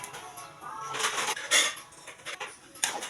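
Spaghetti sauce stirred in a pan on the stove, giving repeated clattering scrapes and knocks of a spoon against the metal in short uneven bursts, close and fairly loud, with no speech.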